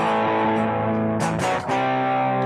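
A Gibson SG electric guitar played through a boutique overdrive pedal rings out with thick, sustained distorted chords, close and loud, with a brief strummed change in the middle and no talking.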